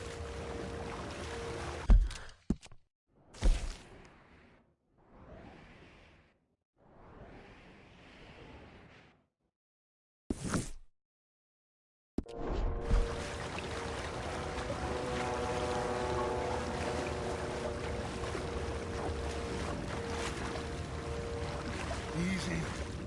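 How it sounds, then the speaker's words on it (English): A rowboat is paddled quietly through water in the Red Dead Redemption 2 video game, with soft intermittent splashes early on, then a steady watery wash with a low hum running under it after a short silence. "I think the best plan is to paddle up there silently"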